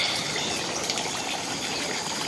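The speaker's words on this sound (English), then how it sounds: "it's my new 3-tier water fountain here" Better Homes and Gardens 3-tier outdoor water fountain, water spilling and trickling continuously between its tiers in a close, steady, fairly loud wash with no pauses.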